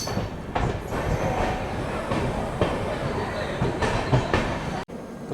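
Swarna Rekha Express train running at high speed, steady rumbling rail noise with rhythmic clicks of wheels over joints, heard from inside the coach while someone talks.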